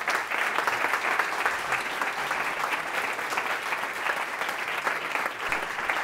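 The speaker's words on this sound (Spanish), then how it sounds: "Bueno, un aplauso." Steady, dense applause from a conference audience, loud and sustained throughout without pause.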